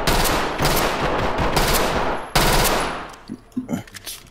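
Rapid automatic gunfire in the tactical shooter Ready or Not, loud sustained bursts with a brief break, then scattered single shots and thuds as the firing tapers off.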